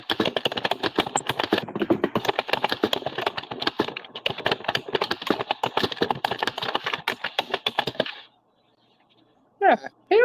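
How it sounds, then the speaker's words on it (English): Rapid, close clatter of keys on a computer keyboard runs for about eight seconds, then stops, leaving near silence before brief voices speak at the end. "Sorry, I'm typing on my computer."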